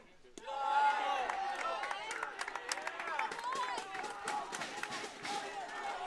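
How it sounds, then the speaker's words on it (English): Crowd at a state high school baseball championship game cheering and clapping in the late innings, a rising mass of voices and scattered claps heard from a distance, steady and moderately loud. "Crowd's making some noise now."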